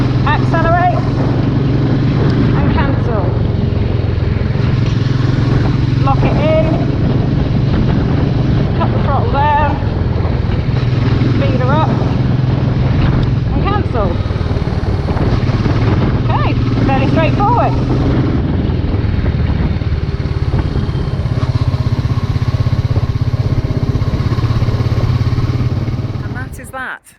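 A Royal Enfield Meteor 350 motorcycle fitted with an Atlas throttle lock rides steadily, its engine droning with strong wind rush throughout, rising and easing slightly, while a rider talks over it.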